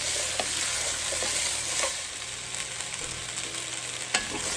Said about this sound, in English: Go ahead and add in our onions. Just saute these for just a couple of minutes.